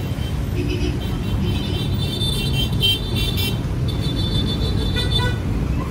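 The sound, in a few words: fast cars, trailers and trucks passing on a roadside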